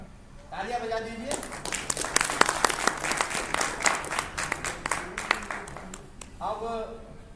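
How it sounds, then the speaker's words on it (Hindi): Crowd applause at a welcome ceremony in Rishikesh, Uttarakhand, a dense steady wash of clapping for several seconds, with a voice speaking over the start and end. "तालियां बजा दीजिए।"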